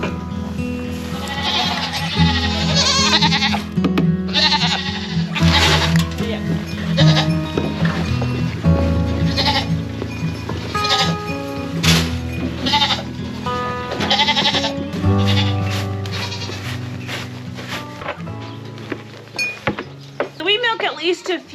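Homestead goats bleating loudly and repeatedly in single-digit freezing temperatures during winter chores, the calls overlapping with people talking nearby and occasional clinks of metal.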